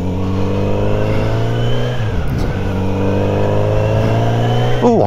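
A Kawasaki Z900RS motorcycle engine revs hard on a test ride, its pitch climbing through the gears with a shift in the middle, loud and close with steady road rumble and no talking.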